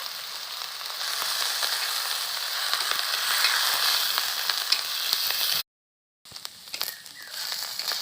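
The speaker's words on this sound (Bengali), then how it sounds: "মশলাগুলো দেওয়ার পর 2-3 মিনিট ধরে নেড়ে নিয়েছি।" Ginger, garlic and green chilli pastes fry and get stirred in hot oil for a Bengali rohu fish curry, a steady close sizzle with scraping stirs, a brief silent gap near the end, then sizzling again.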